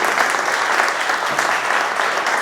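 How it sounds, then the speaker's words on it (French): Close, loud applause from an audience at a New Year's greetings ceremony, thick continuous clapping with no voices breaking through. "il faut l'applaudir"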